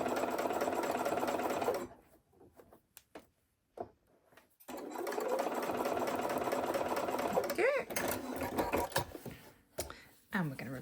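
A sewing machine runs in steady, close bursts while stitching a holiday quilt block, with short pauses where the stitching stops and a voice speaks.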